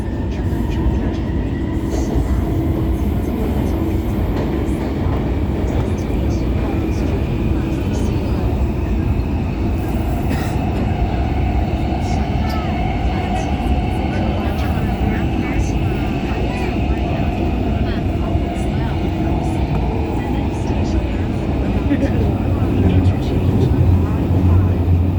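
A Guangzhou Metro Line 1 train runs steadily with its refurbished, weakened traction motor droning under continuous rumble and rail noise, with a voice speaking over it throughout.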